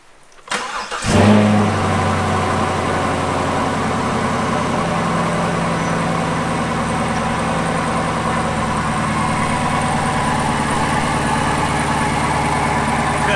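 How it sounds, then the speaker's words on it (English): A Camaro SS V8 cold-starts inside a home garage: a crank and sharp catch, then a loud, close, steady idle with a slightly uneven throb that fills the rest of the clip, with no voices. "And you get a cold engine started inside my garage"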